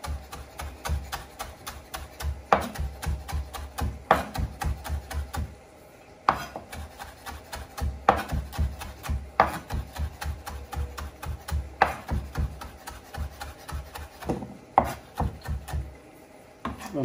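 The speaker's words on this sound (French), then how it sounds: "On va hacher un peu de persil, de la coriandre." A knife chops parsley and coriander on a board in fast, steady bursts of thudding strokes, broken by a few short pauses, close and fairly loud with no voices.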